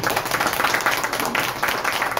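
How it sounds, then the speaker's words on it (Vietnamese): Audience at a Vietnamese VIP customer seminar clapping together, a dense, loud burst of applause filling the short stretch with no voices over it. "Có vỗ tay to quý vị."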